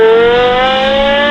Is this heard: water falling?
no